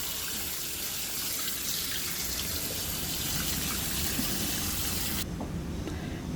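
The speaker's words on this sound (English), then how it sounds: "you're going to drain your rice and then wash it in cold water so it stops the cooking process" Cold tap water pours hard over drained cooked rice in a kitchen, a loud, steady gushing rush close by that stops abruptly near the end.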